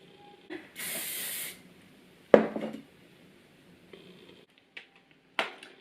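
Tresemme hairspray hisses out in one sustained burst of about a second, close and fairly loud, followed later by a few short clicks and taps of handling, with no talking.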